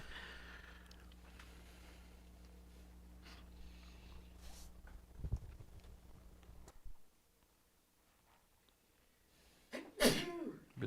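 A single sharp sneeze bursts out near the end of a quiet indoor stretch of miniature painting, following a low steady hum and scattered small handling clicks.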